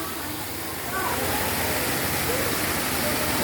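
Water rushing through a large channel on a forest river, a steady broadband roar like a small waterfall that swells slightly after the first second and stays continuous and close.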